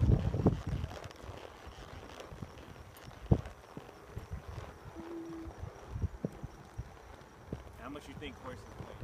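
Horse hooves clip-clop at a walk on a riding outing, irregular thuds heard up close among wind buffeting and chatter from riders nearby.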